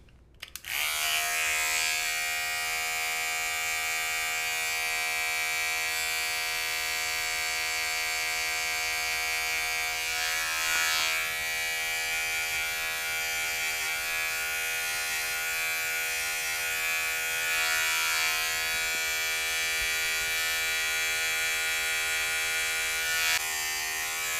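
A hair clipper fitted with a 1.5 guard buzzes steadily while trimming a beard, one continuous close electric hum that starts abruptly and holds evenly for over twenty seconds.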